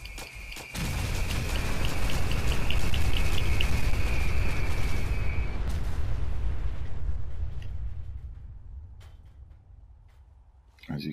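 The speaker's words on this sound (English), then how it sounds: "so we'll just fire off a couple of shots" A modded weapon in Fallout 4 fires near Far Harbor, setting off a heavy, sustained roaring blast with a high whine on top. It rumbles for several seconds, then fades, with a few sharp cracks near the end.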